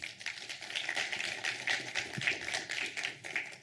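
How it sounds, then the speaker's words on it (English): Audience applause at a Falling Walls Lab event in Pretoria, 2022: a sustained round of clapping from a crowd, dense and even at moderate loudness, with no voices over it. "And a round of applause to them,"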